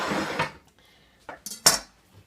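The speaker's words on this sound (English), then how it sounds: "You just scrape a little bit here" A spoon scrapes seeds out of halved acorn squash in a few short, close, quiet strokes, with small clinks and scratches separated by pauses.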